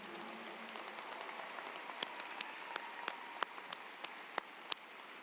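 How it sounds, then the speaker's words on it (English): Commencement audience applauding the top 10 graduates of the class of 2023, a soft sustained patter of many hands with several sharper individual claps popping out toward the end. "please provide a round of applause for the top 10 of the class of 2023"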